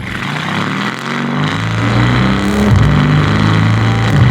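A 1,000-horsepower twin-turbo Mercedes-AMG car engine, loud and close, droning and revving with rising and falling tones throughout, no talk over it.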